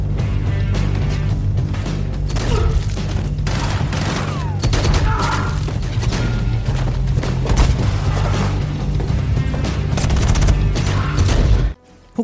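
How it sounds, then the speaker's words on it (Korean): A Lawgiver 2 pistol in a film fires standard execution rounds in a loud, rapid string of shots. Heavy booms and crashes are layered over a dense soundtrack, and the sound cuts out abruptly near the end. "로기버2의 가장 큰 장점은 바로 다양한 종류의 특수 탄환을 사용할 수 있다는 것입니다. 한 발 한 발 강력한 파괴력을 가진 표준 처형탄을 시작으로"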